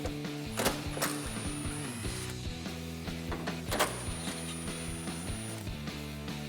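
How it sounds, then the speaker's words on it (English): A 10mm socket ratchet works on the headlight bolts of a 2014-2015 Chevrolet Silverado 1500, giving close, rhythmic clicking and mechanical ticking bursts with brief pauses between strokes. "I'm going to use that same 10mm socket to remove them"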